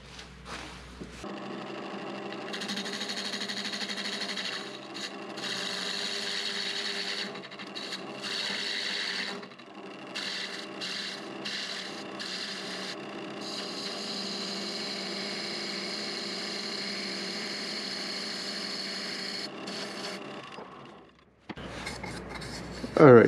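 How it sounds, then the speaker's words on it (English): A wood lathe spins a wooden potpourri box at 750 RPM while a tool cuts into the ring, giving a steady whirring hum with scraping and rasping that drops out briefly, close and continuous, then stops near the end. "And I'm going to turn this at 750 RPM and just start to take this part of the ring off."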